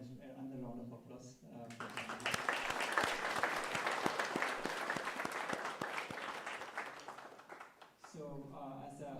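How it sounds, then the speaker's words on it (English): Audience applause rising after a spiritual talk by a swami at a Hindu temple in Portland, a dense burst of clapping filling most of the stretch, with a speaking voice before and after it. "Another round of applause."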